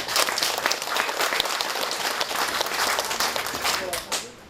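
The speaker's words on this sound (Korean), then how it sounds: "관계 공무원들에게 큰 박수 한번 부탁드립니다." Big applause from attendees for county officials at a Gyeongbuk provincial field meeting in Uiseong County, dense sustained clapping that fills the room at even loudness before tapering off near the end.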